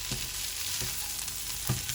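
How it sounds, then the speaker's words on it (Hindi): Salt, cumin and ground spices frying lightly in a pan for aloo samosa filling, a steady close sizzle with a few soft stirring scrapes. "और इसे हल्का हल्का फ्राई करना है"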